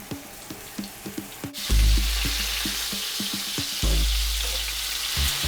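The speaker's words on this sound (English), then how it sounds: "In 4 tablespoons of grapeseed oil, shallow fry your pork ribs." Pork ribs shallow fry in grapeseed oil, a close, steady sizzle that swells loudly as meat hits the hot oil, with small clicks and taps of handling between the surges.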